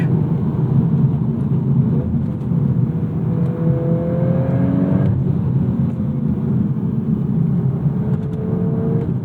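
A hot hatch, Volkswagen Golf R MK8 or Acura Integra Type S, driven hard through a corner with trail braking, its engine a loud steady drone from inside the cabin, with pitch shifting as revs rise and fall.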